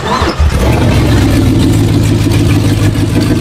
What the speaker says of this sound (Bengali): এই বাটনে ক্লিক করার সঙ্গে সঙ্গে দানবের মতো গর্জন করে গাড়িটির ইঞ্জিন চালু হয়ে যায়।